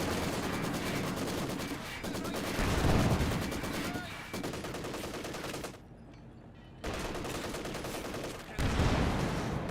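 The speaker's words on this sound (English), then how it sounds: "Conscripts firing away." Conscripts' rifle fire in the Company of Heroes 2 video game, with a steady crackle of gunfire and louder bursts throughout, broken by a brief quiet gap and heard alongside battle noise.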